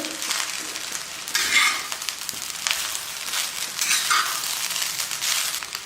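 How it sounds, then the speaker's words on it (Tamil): Egg fried rice being stir-fried in a pan, with a dense sizzling hiss and repeated vigorous tossing and scraping sweeps of the spatula, loud and close, with no one speaking. "எல்லாம் சேர்த்து நல்லா கலந்து விட்டுட்டு"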